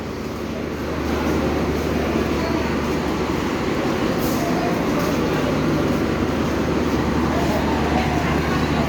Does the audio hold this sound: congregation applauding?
no